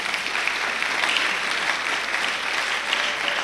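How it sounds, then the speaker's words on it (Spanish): A church congregation applauds loudly and steadily, a dense continuous wash of clapping from many hands filling the room throughout. "Denle un fuerte aplauso a nuestro Dios."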